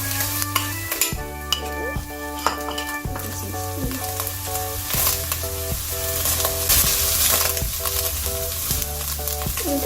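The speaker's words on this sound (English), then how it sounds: "So I'm using brown rice, but you can also use the white kind of rice." Brown rice stir-fries for crab fried rice with a steady close sizzle, broken by repeated scraping and stirring strokes of a utensil against the pan, with no talking.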